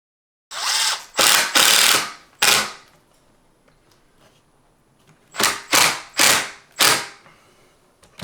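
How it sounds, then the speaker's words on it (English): A power drill drives screws through a window into its vinyl frame in close, loud ratcheting bursts, four short runs, a pause, then four more, with no talk. "now we're ready to go ahead and screw this window in place"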